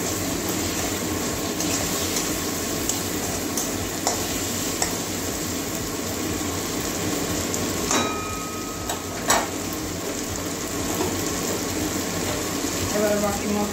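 Chopped tomatoes with spices for a mushroom and potato curry sizzle steadily in a pan at close range, with occasional scraping clinks of stirring.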